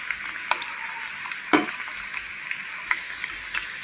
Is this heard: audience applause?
no